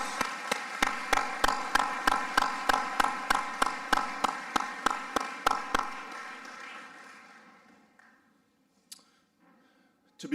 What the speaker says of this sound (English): give a round of applause and appreciation to all those who have supported you along the way